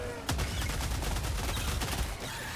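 BR-14 rifle fire from the game Helldivers 2 sounds as a dense, rapid burst of loud shots that run together into a continuous crackling roar for a couple of seconds.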